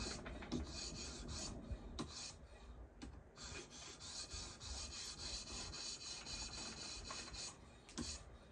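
A Spyderco kitchen knife blade is sharpened with steady, rhythmic rasping strokes against a sharpening surface, close and quiet, the repeated scraping passes running without talk.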